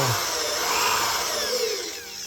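A power drill boring holes into an amplifier panel, a loud, continuous whirring whine that holds steady and then eases slightly near the end, close up and alone.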